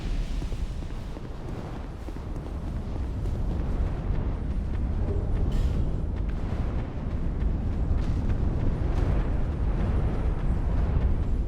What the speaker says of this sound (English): What if I nuke her with explosions?